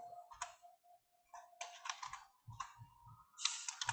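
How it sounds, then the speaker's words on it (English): Typing on a computer keyboard comes in quick bursts of close, soft clicks with short pauses between, over a faint steady hum, with no talking. "Now I have to type it out."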